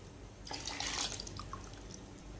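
Water poured into a pot for kadhi: a short, bright splashing pour lasting under a second, followed by a few faint drips, quiet and close.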